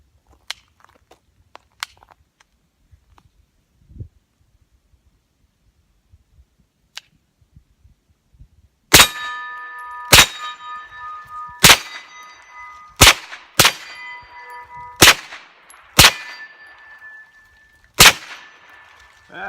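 Glock pistol shots fired with a 21-round magazine at a steel target on a shooting range: about nine sharp cracks, each followed by a ringing metallic clang, coming at irregular intervals after a stretch of quiet with scattered small handling noises.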